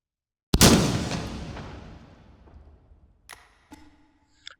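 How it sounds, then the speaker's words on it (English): A shotgun fires tungsten dart shells in the H3VR video game. One sharp, loud blast decays into a long ringing tail, followed by a few faint metallic clicks. "These fire basically a sort of bundle of really sharp, long tungsten darts in a really tight grouping"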